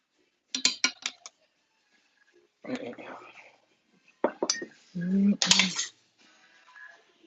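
Metal ladle clinks and scrapes against a bowl while scooping New Orleans-style BBQ shrimp, a few short close clatters separated by pauses.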